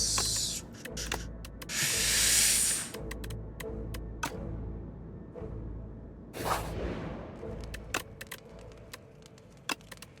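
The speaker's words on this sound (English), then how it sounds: "we're gonna go for the dagger spray right now" A dagger spray attack in Slay the Spire 2 lands as a loud, hissing, swishing burst, followed later by a shorter second burst, with scattered sharp ticks and clicks around it.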